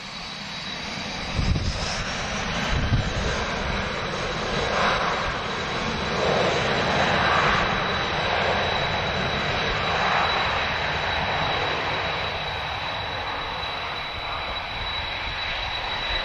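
Steady, loud roar of airliner CF6 jet engines at Lisbon Airport, a broad rushing drone with a high whine running throughout, no voices.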